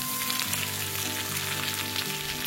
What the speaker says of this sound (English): You can add the bok choy stems after the carrot fingers have been frying for about 2 minutes.